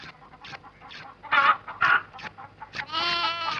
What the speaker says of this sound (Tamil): எதுக்கு கோழியை பிடிச்சிட்டு இருக்கீங்க?